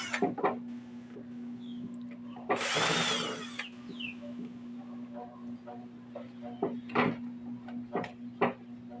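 Tools opening the casing of a built-in speaker's amplifier under repair, heard as a short loud burst like a small drill or driver, surrounded by clicks, scrapes and knocks, over a steady electrical hum; someone talks quietly.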